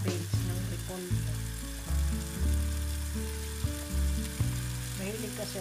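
Tomato sauce hitting cabbage in a hot pan, a steady sizzle with low tonal hum and periodic scraping stirs, fairly loud and continuous.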